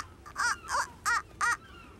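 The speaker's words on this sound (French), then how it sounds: "Oui, ce sont des mouettes." Seagulls call overhead in a harbour ferry setting, four harsh, evenly spaced squawking cries sounding fairly close and clear over a low background rumble.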